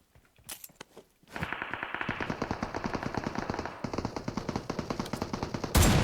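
AMR sniper rifle fire in PUBG Mobile, sharp loud shots at the start followed by a rapid, sustained burst of gunfire that runs close and dense through most of the clip.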